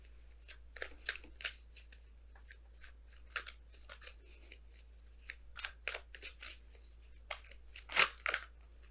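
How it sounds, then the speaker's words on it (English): Oracle cards being shuffled and drawn from a deck, a series of quick papery riffles and flicks with short pauses between bursts, close and fairly quiet, with no talking. "Let me quickly pull these."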